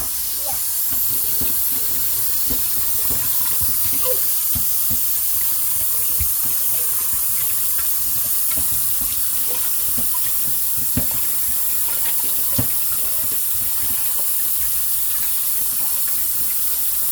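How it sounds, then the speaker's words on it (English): Rice rinsed under a running kitchen tap before cooking in a rice cooker, a steady close hiss of flowing water throughout with faint clicks and swishes of grains being stirred. "we're gonna rinse it out one more time."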